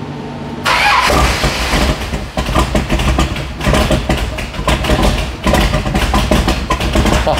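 A fuel-injected hot rod engine cranks briefly, then catches and settles into a loud, rough, lopey idle that stays close and steady with uneven pulsing throughout.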